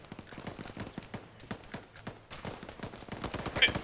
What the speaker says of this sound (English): We're being shot from top of the hill!